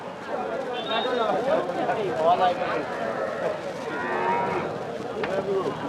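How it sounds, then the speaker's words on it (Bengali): Cattle moo at a busy livestock market, the lowing calls rising over the crowd's chatter, with people talking close by. "দাতাল গরুগুলো"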